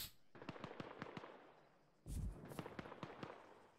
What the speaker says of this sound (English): Got fire going off to their right.